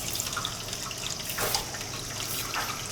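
Water trickles and splashes steadily into a large Weil-McLain boiler as it refills after a stuck feeder is freed, a continuous hiss with small drips, heard close and alone.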